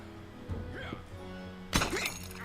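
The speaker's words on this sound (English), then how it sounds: "And do some shield shattering." A shield-shattering attack in The Banner Saga lands as a sudden bright glassy smash with breaking debris, preceded by quieter game sounds and voices.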